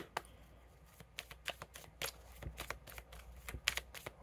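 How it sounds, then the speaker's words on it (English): Cards riffle and snap in a series of quick, crisp bursts, close by, with brief pauses between shuffles and no talking. "I should actually start shuffling this way."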